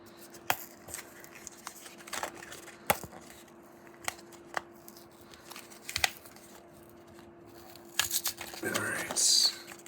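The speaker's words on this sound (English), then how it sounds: "open the packaging" Plastic packaging around a CR2025 replacement battery for a Mercedes-Benz C300 key fob being torn open, with sharp crinkles and tears scattered through and a louder rip near the end.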